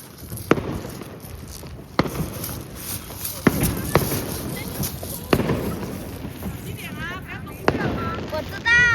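Fourth of July fireworks bursting in a series of sharp, loud booms spaced a second or two apart, with crackling and whistling in between, heard from nearby outdoors while people talk.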